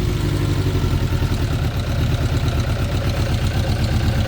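A Suzuki GSX 600F Katana from 2006, troubled by a carburetor problem, idles steadily and loudly close by, its low, even engine rumble running unbroken with a light mechanical clatter over the top.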